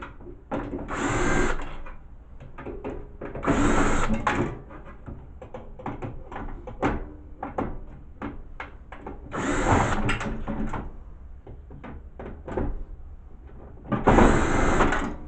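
A power drill backs screws out of a Hamilton Beach microwave circuit board, four separate whirring bursts of a second or so each, spaced apart with clicks and handling noises from the board and tool in between.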